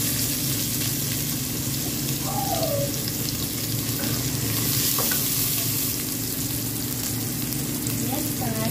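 Garlic and onion fry in a pan for pancit, a steady sizzling hiss with faint stirring and a brief watery trickle, close and moderately loud, no one speaking.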